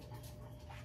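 Quick, steady panting from small dogs nearby, a soft continuous breathy rhythm with no talking.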